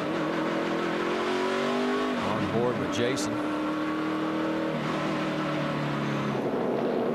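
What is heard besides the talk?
NASCAR race car engine, onboard at Richmond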